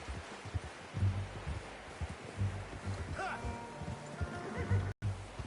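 A horse in Red Dead Redemption 2 neighs in a long whinny over steady hoof clops and rustling, with a low ambient rumble throughout.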